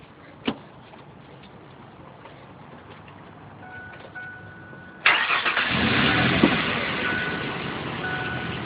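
A car engine starts up partway through and keeps running loudly and steadily at close range after a quiet stretch with a brief knock, while the air conditioning is being recharged with freon.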